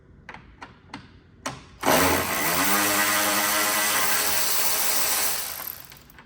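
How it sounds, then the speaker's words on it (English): A powered ratchet with an extension works a headlight bolt on a 2017-2019 Ford Powerstroke truck: a few sharp clicks, then a loud, sustained motor whine that strains and bogs down for several seconds before easing off. "We got an extension. Ratchet's kind of bogging down there, you hear that?"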